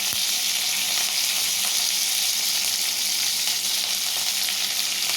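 Garlic, curry leaves and dried chillies fry in hot oil for rasam, a loud, dense, unbroken sizzle heard up close with no voices.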